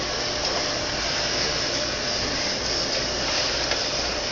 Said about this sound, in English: We're going to put a little dryer to it